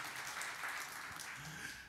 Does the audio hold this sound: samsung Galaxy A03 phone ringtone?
no